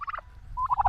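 Turkeys at a farm in Bennett gobble in two close, loud bursts: a rapid rattling call at the start and a second, longer warbling gobble near the end, with no talking.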